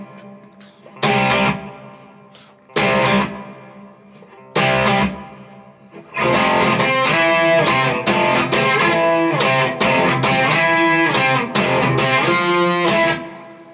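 Distorted electric guitar power chords in standard tuning from the verse of a song: a few sharp chord stabs separated by pauses, then a driving, continuous chugging riff, loud and close.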